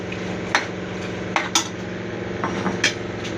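Chicken frying in oil in a pot with onions, stirred with a metal spoon: a few sharp clinks and scrapes against the pot over a steady sizzling background, close by, with no talk.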